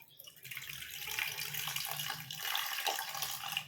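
Water poured from a tap into a small metal pot while making fruit juice, a steady, close, continuous gushing stream with rising splashes, no talk.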